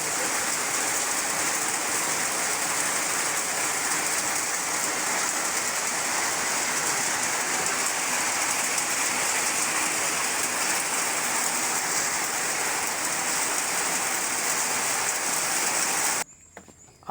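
Rain falls hard and steadily over a house under construction, a loud, unbroken wash of noise that cuts off abruptly near the end.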